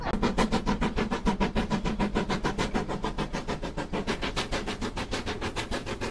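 A train passing close by in the Scottish countryside, its wheels beating a fast, regular clickety-clack rhythm that stays loud and steady throughout.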